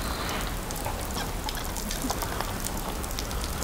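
Water pours steadily while a bike is washed outdoors, a continuous hissing splash with scattered droplet patter, close and constant throughout.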